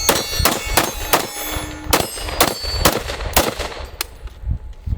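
5.56 rifle shots fired offhand from a non-AR rifle, around ten sharp, fairly quick reports with metallic clanks, loud and close, with faint ringing between shots.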